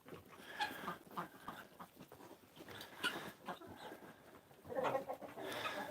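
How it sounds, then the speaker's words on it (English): Guinea hens on a farm call out in a burst of harsh, repeated cries mixed with other bird and fowl sounds, fairly faint and spread across the whole stretch, with no talking. "There's the guinea hens."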